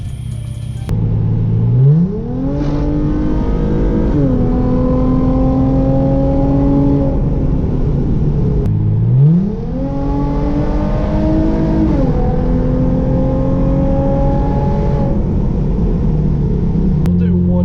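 A Genesis Coupe's engine revs up twice with rising pitch as it pulls away and climbs through the gears, then settles into a steady cruising drone between pulls, heard from inside the car.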